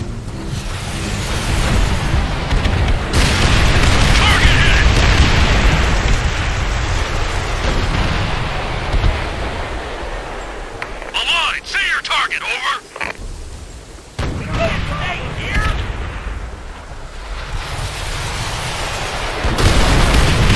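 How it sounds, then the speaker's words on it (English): Rocket barrage explosions in the WWII shooter Call of Duty: World at War, a loud sustained rumble of blasts and booms with several sharp bursts and gaps, voices calling out over the battle. "Rocket barrage available."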